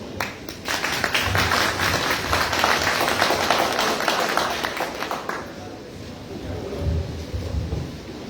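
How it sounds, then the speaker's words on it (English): Audience applause following a speech at an energy transition forum, a strong wash of many hands clapping for several seconds, then fading into scattered claps as a voice begins speaking. "Ladies and gentlemen, you need to give us a bigger clap"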